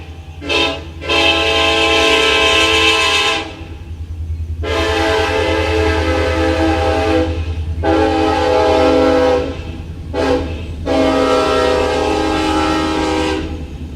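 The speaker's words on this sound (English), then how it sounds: "Yes, there is a train right across the tracks from my shop." A loud train horn sounds in long blasts with short breaks, over the steady rumble of a train rolling close by on tracks beside a shop.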